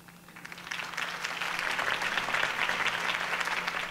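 Crowd applause after a campaign speech for Harvey Dent, a dense, steady clapping that swells and holds for several seconds, heard at moderate distance.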